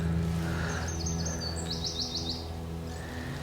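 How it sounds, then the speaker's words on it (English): A great tit calls repeatedly in short bright chirps and rapid trilled notes, moderately distant, over a steady low background hum. "So if you can hear that bird, that is a great tit."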